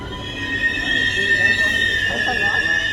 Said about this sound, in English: We're at the train station.